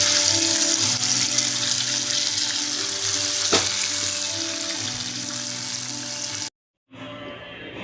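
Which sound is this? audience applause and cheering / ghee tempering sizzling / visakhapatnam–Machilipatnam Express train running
ghee tempering sizzling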